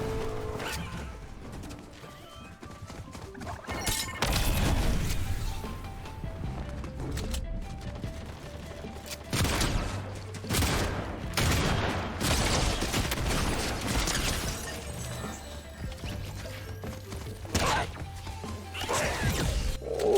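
Gunfire erupts in a Fortnite match, with loud, close bursts of rapid shots and crashing impacts repeating throughout amid busy game sounds.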